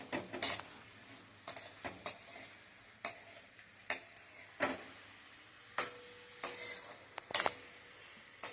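Sweet potato sheera stirred in a pan over a high flame gives a faint sizzle punctuated by repeated sharp spatula taps and scrapes at an irregular pace, close and otherwise quiet.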